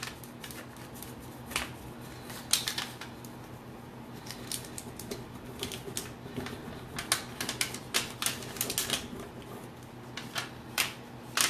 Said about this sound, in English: I'm going to rub this as I peel it, just watching to make sure that all my edges stay down as I peel it.